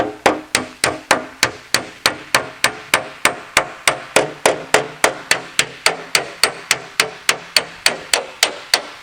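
A hammer strikes an aluminum Jaguar E-Type bonnet panel in a steady, rapid series of sharp metallic blows, close and loud, about three per second with brief ringing decay.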